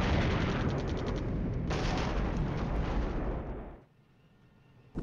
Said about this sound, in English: these are the guided missiles from the Panzergrenadiers